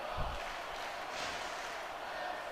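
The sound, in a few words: crowd chanting in WWE SmackDown vs Raw 2006 video game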